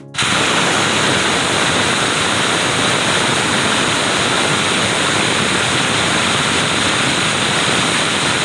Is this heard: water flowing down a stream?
yes